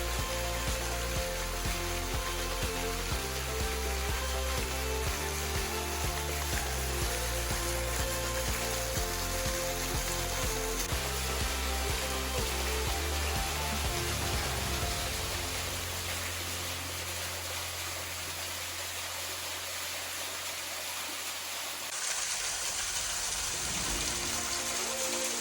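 A waterfall in Arkansas roars with a dense, continuous rush of falling water, loud and steady throughout and shifting in tone toward the end, with no voices.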